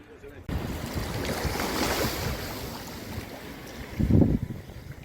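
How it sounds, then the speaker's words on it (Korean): Winter sea wind and waves roll along the Uljin coast at Gongseok harbor, a steady blustery roar with a louder gust thumping against the microphone near the end. "겨울바다는 오랜만인데 바닷물이 아주 맑고 바람도 시원합니다."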